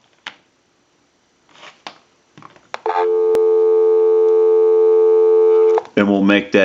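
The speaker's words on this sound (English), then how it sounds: "I'll go ahead and give you some dial tone." A Western Electric Princess telephone gives a steady, loud, unbroken dial tone lasting about three seconds, preceded by handset clicks and rustling and followed by someone speaking.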